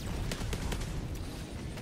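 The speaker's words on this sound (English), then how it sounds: "The clean headshot with the quasar cannon kills him off." A quasar cannon fires in a video game: several sharp, cracking blasts burst out one after another over a dense, noisy background of gunfire.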